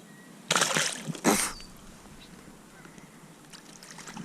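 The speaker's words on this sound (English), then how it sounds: "He splashed me pretty good." Two quick bursts of splashing water hit a person out bass fishing on a rainy Oregon lake, close and loud, over a background hiss of rain and open water.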